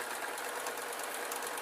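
A sewing machine runs steadily while stitching the backing onto a quilt, giving a continuous, even, fairly quiet mechanical whir with no pauses or talking.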